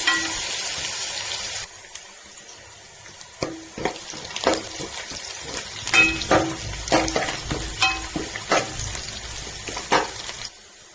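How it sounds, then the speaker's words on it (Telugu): Onions frying in hot oil for chicken biryani, a steady sizzle broken by repeated scraping, clattering stirs of a spoon in the pan, close and fairly loud with no talking. "బాగా నూనెలో వేసుకుందామండి. ఎర్రగడ్డ బాగా కలర్ వచ్చే వరకు వేసుకుందాము"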